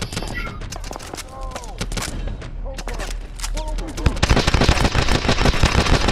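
Gunfire from Call of Duty: Advanced Warfare on PS4, with rapid repeated shots and bursts that grow denser and louder toward the end, while faint voices come through between volleys.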